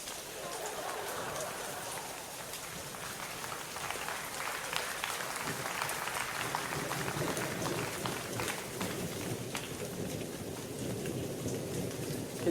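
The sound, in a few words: rain and thunder sound effect in a stage show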